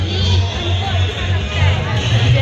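A dense Shivratri crowd at the Dudheshwar Nath temple in Ghaziabad makes a steady murmur of overlapping voices, close and continuous.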